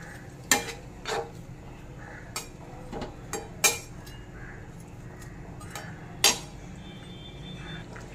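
A metal spatula scrapes and taps in a pan as fried foli fish pieces are pressed down into simmering curry, sharp scattered clinks and knocks over a soft bubbling sizzle.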